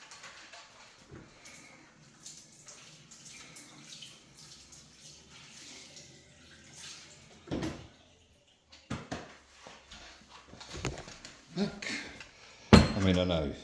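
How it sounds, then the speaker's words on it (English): Running water splashes over tea-making gear being rinsed in a sink, mixed with clinks of a dish and metal items, fairly quiet and intermittent, with someone talking through much of it. "Right, let me just give this a quick wash down."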